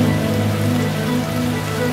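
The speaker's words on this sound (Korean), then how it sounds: "더위를 식혀줄 비가 내립니다." Summer rain falls steadily over the Upo wetland in Korea, a dense, even hiss of countless drops on water and leaves, close and continuous with no voices.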